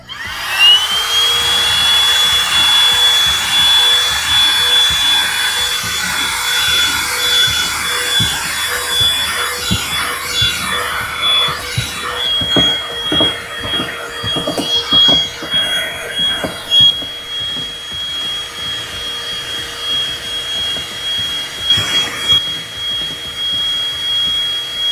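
A vacuum cleaner fitted with a brush attachment works over a car boot, its steady high motor whine running throughout, with rapid scrubbing knocks and bumps from the brush growing busier toward the end; no talk.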